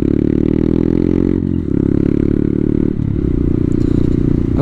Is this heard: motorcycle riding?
yes